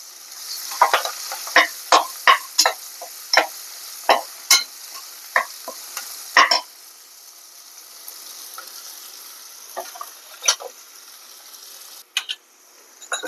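Onion dropped into hot oil with crushed curry leaves and green chillies for a Maharashtrian jackfruit bhaji, sizzling under a series of sharp spatula scrapes and stirs in the pan, the stirring then easing to a softer fry.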